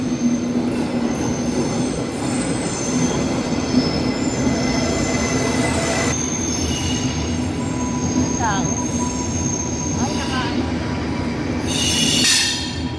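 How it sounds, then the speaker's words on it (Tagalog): A sleeping train rolls past on the rails, with steady rumble, metallic wheel squeals and a brighter screech rising near the end, fairly loud and close. "Yan guys, sleeping train yan"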